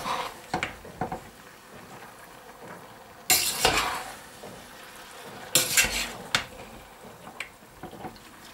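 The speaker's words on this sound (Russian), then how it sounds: "Бараний жирок в кастрюльке начинает уже кипеть, поэтому я его все время перемешиваю." Mutton fat sizzles softly as it melts in a pot while a spoon scrapes and stirs now and then, with a few louder clanks against the metal.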